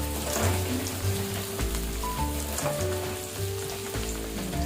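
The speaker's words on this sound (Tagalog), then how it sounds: "Prito-prito muna natin yung mga..." Milkfish sizzles and crackles steadily in hot oil, close and continuous, with faint clinking and background tones.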